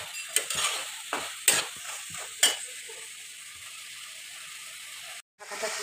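Watermelon rind curry with fritters being stirred in a pan: a few distinct scraping clatters of the spoon over a soft background sizzle, with a quiet stretch and a brief dropout near the end.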